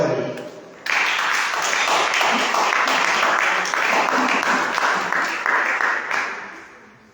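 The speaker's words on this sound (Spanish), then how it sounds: "Den un fuerte aplauso a Él." Church congregation applauding loudly during a Spanish-language worship service, a dense sustained burst of clapping that starts abruptly, holds steady and fades toward the end.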